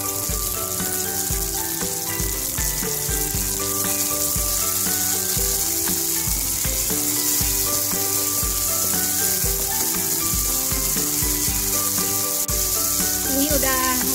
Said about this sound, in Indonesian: Ini tumis sampai harum ya.